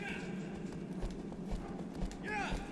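Horse hooves in Shadow of the Colossus, a rapid galloping clip-clop heard close, with a voice talking over it briefly near the end.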